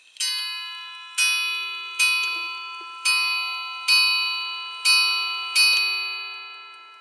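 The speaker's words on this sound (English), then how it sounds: "that's 8 bells" A Schatz maritime ship's bell clock strikes clear, ringing bell tones, spaced about a second apart in pairs-like rhythm, each tone decaying slowly, with no talk.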